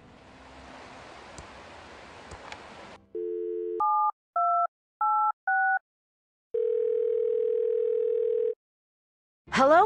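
In the Thimbleweed Park video game, a steady synthetic telephone dial tone is preceded by a rising run of paired electronic beeps as the call connects, after a stretch of rushing noise; no one speaks.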